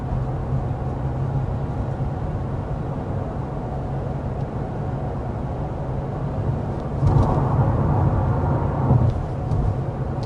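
Continuous low road roar inside a Honda CR-V Hybrid cabin on the road, a steady broad hum that swells briefly louder near the end, no voices.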